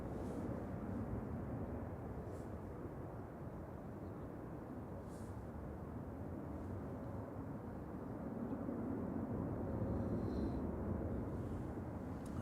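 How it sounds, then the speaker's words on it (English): Ryanair Boeing 737 Max 8-200 airliner on short final for landing at Manchester Airport, a steady distant jet roar and rumble holding evenly throughout, swelling slightly toward the end, with no voices. "Behind the departing 787, we've got Ryanair coming in from Bucharest"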